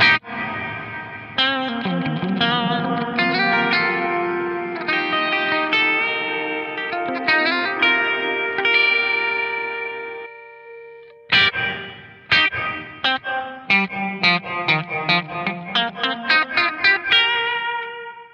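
An electric guitar runs through a BOSS RV-500 reverb pedal in fast decay mode, with plucked notes and chords ringing into a washy tail that dies away quickly, then a brief silence before a second phrase of rapid picked notes.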